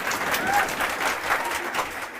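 An audience claps together in a sustained round of applause at a gathering honoring successful people, a steady, fairly loud patter with a voice faintly heard beneath.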